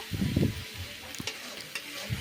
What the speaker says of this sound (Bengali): রসুন পেঁয়াজ বাটাটা দিয়ে আরও কিছুক্ষণ ভাজা করে নেব।